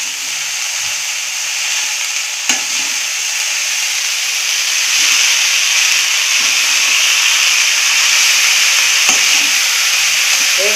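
Moong dal and dill vegetable dish being stirred as it fries in a pan over a low flame: a steady close sizzle and hiss with occasional clinks of the spoon against the pan, and no talk.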